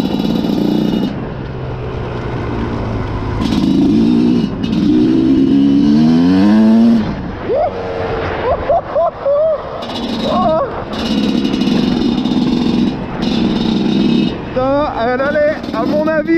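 A Yamaha WRZ 250 motorcycle revs and rides, its engine rising and falling through several loud accelerations with shifting pitch and brief pauses, close by, while a rider talks and exclaims over it at times.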